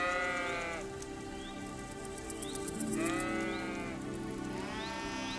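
Sheep in the medieval video game Kingdom Come: Deliverance II bleat in repeated wavering calls, about three drawn-out cries spaced a couple of seconds apart over a steady ambient hum, fairly near, without talk.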